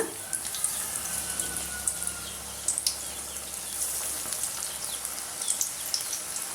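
Spinach bondas frying in hot peanut oil, a steady soft crackle and bubbling with scattered sharper pops, fairly faint and continuous without talk.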